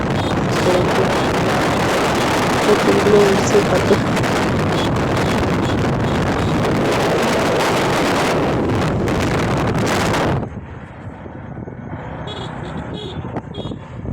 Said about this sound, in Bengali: চারজন আমরা বাইকের মধ্যে বসে, খুব হাওয়া দিচ্ছে, ঠান্ডা ঠান্ডা হাওয়া